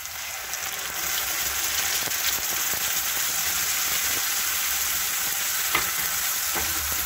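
Tomato paste frying in a pan for a chicken and potato curry, a continuous dense sizzle close by with occasional stirring scrapes and clicks, steady in level and free of talk.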